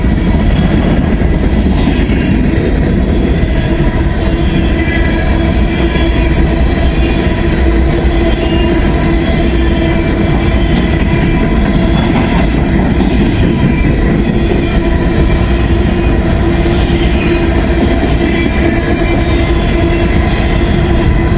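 A long freight train with distributed power units rolls steadily past on the railway, loud and close, with a continuous rumble and clatter of wagons throughout and no talk.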